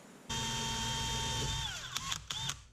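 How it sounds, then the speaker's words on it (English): A steady, high-pitched whine of a small drill with a 1/8-inch bit boring a pilot hole in a Chevrolet Silverado tailgate for a wing, running continuously for about two seconds, then slowing, followed by a few brief bursts as it starts and stops. "now we're going to use a small 1/8" drill bit to drill a pilot hole"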